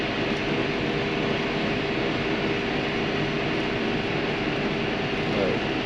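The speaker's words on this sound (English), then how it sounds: "They are rather noisy, these mowers." Front and rear tractor mowers run together in a field at full revs, giving a dense, unbroken engine roar that stays loud and steady throughout.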